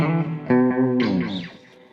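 A guitar run through a cheap delay pedal rings out with repeating echoes that gradually fade away, a sustained chord followed by a bright swelling repeat that decays softly into quiet.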